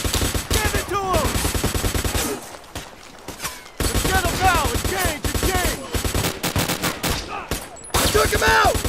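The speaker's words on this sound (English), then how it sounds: "I'm taking heavy fire over here!" Sustained automatic gunfire and repeated shots from the Army Men: Plastic Apocalypse video game, loud and dense bursts with a brief quieter lull in the middle before heavy firing resumes.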